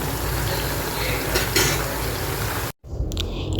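Crispy chicken pieces sizzle in hot oil in a home kitchen, a loud, dense crackling hiss with light clinks, broken by a brief silent dropout before the frying noise resumes.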